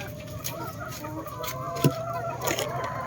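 Layer chickens cluck in a pen amid a general farmyard murmur, with several soft calls and one sharper nearby squawk, no talk heard.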